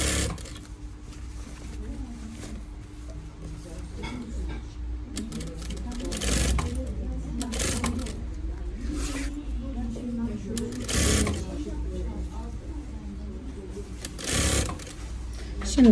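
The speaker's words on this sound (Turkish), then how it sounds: "Bakın şuradan tam dikiyorum. Makinenin ayağına sıfır gibi." A sewing machine stitches a zippered lining in a steady, close mechanical whir that runs in longer and shorter bursts, with a person talking over it throughout.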